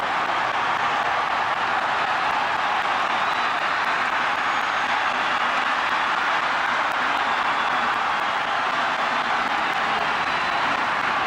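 Wildcat football fans cheer from the stands at the Cotton Bowl on New Year's Day, a steady, broad roar of crowd noise holding at an even level throughout with no clear peaks, heard from within the stadium.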